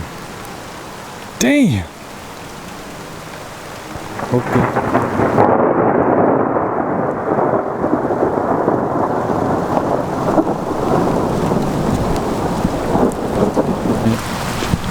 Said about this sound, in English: Just gonna stand out here in the rain.